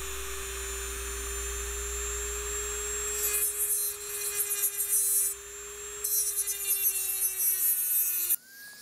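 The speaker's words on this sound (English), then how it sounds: "What I'm going to do here is put a screwdriver slot in that and try to screw it out." A rotary cutting tool whines steadily at close range while cutting a screwdriver slot into a stuck screw on a Wheel Horse 704 tractor, with a gritty grinding texture that comes and goes as the tool bites.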